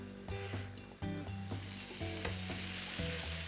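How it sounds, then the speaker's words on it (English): Cheddar and chutney sandwiches cooking in a panini press give off a steady close sizzle, with soft rubbing and shifting sounds early on and the frying hiss growing louder and brighter toward the end. "now I'm gonna cook them in a panini press"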